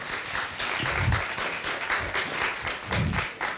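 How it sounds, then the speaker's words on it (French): An audience at a professional evening gathering applauds steadily in a hall, with dense, continuous hand clapping held at an even, fairly loud level throughout. "Donc vous pouvez les applaudir."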